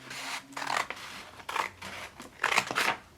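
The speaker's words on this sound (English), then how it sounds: "And I'm gonna cut here along the line." Scissors cutting along a line through the paper cover flap of a fraction foldable: a few short, close snipping and rasping strokes, quiet and alone.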